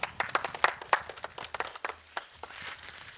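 Audience at a quiz competition held at Santiniketan Medical College and Hospital claps for a prizewinner, a burst of scattered, uneven handclaps that thins out over a few seconds without voices.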